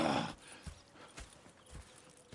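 Horses in Red Dead Redemption 2 clip-clop in scattered, soft hoof thuds on a quiet outdoor ambience, with a louder rustling burst at the start.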